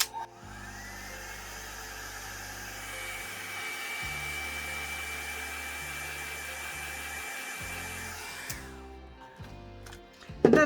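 Hair dryer blowing on alcohol ink, a steady close whooshing hum that runs for about eight seconds before switching off, with faint background tones and no speech.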